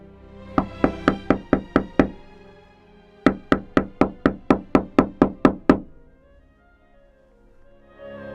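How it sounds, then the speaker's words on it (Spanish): Someone knocks hard on a wooden door in two loud, even runs, first six blows and then about ten, with a short pause between them and no voices. "se escuchó un toque vigoroso en la puerta de la casa cural"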